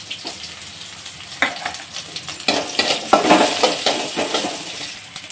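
Prawns fry in a pan with onion and garlic in a home kitchen, a steady close sizzle punctuated by clinks and scrapes of a spoon stirring against the metal pan.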